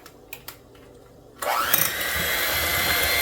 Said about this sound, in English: Take our mixer, it's going to get a little loud, guys.